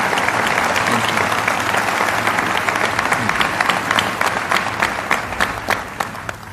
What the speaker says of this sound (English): Let us give Minister Edward a warm and grateful round of applause